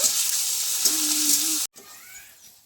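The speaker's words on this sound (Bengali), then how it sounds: "টমেটো কুচি ক্যাপসিকাম কুচি দিয়ে ভালো করে একটু ভেজে নেব" Chopped tomato and capsicum fry in a pan with a bright, steady sizzle close by; the sound cuts off abruptly, then returns as a quieter hiss.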